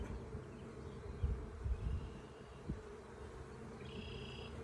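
Honey bees buzz faintly around an open hive frame, a low, steady hum with a few soft bumps and one brief higher whine near the end.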